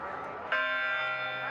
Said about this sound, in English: come up and pull the bell to get that last note of the song